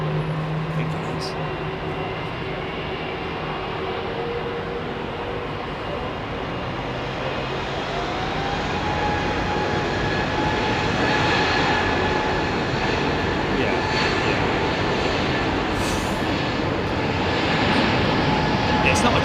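A jet airliner of Ethiopian livery departs Heathrow Airport in the evening, its engines giving a steady, broad roar that swells slightly toward the end, with faint talk in the background.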